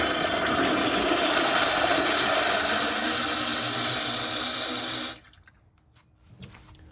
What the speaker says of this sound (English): let's see how it flushes with a dry bowl.